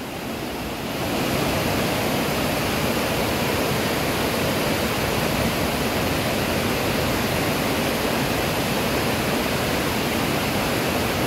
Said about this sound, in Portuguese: Descendo muita água mesmo,